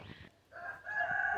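Chickens clucking with a rooster crowing on a farm, faint and somewhat distant, a short crow phrase following soft clucks.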